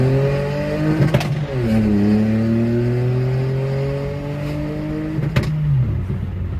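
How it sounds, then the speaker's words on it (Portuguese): Volkswagen up! TSI with a stage 3 tune, downpipe and 206,000 km, revving hard through the gears. Its engine note climbs and drops at each shift, with sharp exhaust pops cracking out at the changes, loud and close. "Esse pipoco na troca de marcha é sensacional"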